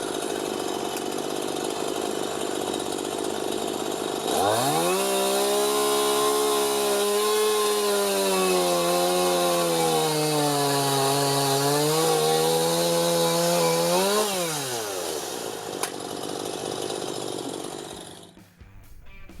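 A STIHL chainsaw revs up and cuts through wood for about ten seconds, its loud buzzing whine rising and dipping with the load, then drops back to a rough idle with no talk over it.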